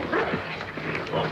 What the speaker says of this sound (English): Well, that's about the meanest dog I've ever